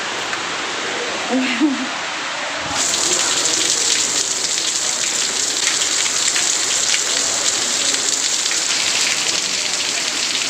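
A heavy downpour roars steadily and loudly, with a softer wash of rain and a brief murmur at the start before the full rain sets in.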